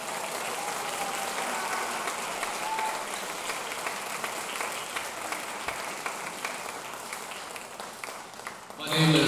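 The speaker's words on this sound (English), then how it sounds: "Let's give them another round of applause." A crowd applauds at a high school jazz and percussion band concert at Leon High School, with thick, continuous clapping filling the hall for several seconds and a louder burst of sound at the very end.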